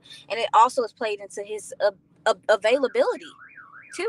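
A warbling car alarm tone sounds briefly near the end, right after people talk over it during an American football pregame show about the Cowboys and Packers.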